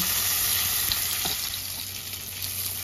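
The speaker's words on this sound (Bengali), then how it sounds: "জাস্ট এপিট ওপিট করে একটু ভেজে নেব।" Catla fish fries in hot mustard oil with a steady, close sizzle and hiss, a few soft pops and spatters breaking through the constant crackle.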